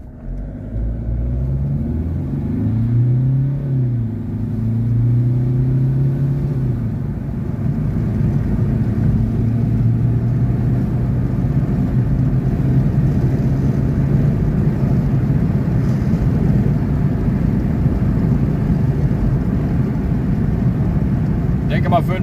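A Mercedes 220 with a new engine block and replacement turbocharger accelerates without kickdown, its engine note rising through a gear change and then settling into a loud, sustained road rumble from inside the car.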